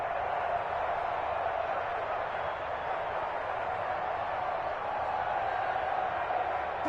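A stadium crowd in an American football video game swells into a sustained, roaring murmur ahead of a big third down, steady and fairly loud with no distinct cheers standing out.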